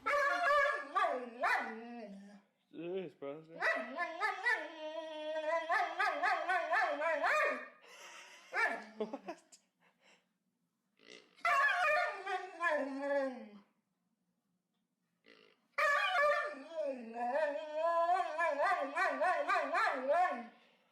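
A dog barks, howls and whimpers in long, loud vocal runs, several bursts broken by short pauses.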